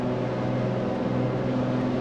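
Aircraft engine in the X-Plane 11 flight simulator, a steady, loud droning hum that holds an even level throughout, with no voices or other sounds.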